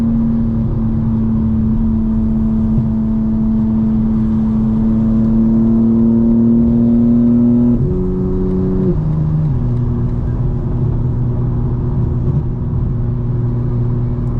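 A 2024 BMW M4 Competition xDrive in all-wheel-drive mode with exhaust burbles enabled gives a loud, steady engine drone while driving, its pitch dropping in steps midway as if through a gear change, then settling into a lower hum.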